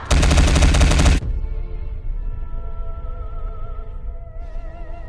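A burst of rapid gunfire from a war movie scene, loud and dense for about a second, then cutting off into a lingering, quieter ringing tail.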